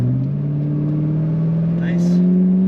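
A 2002 Chevrolet Camaro Z28 35th Anniversary convertible engine pulling under throttle while driving, a loud steady low drone with a slight rise in pitch and a brief high squeak partway through.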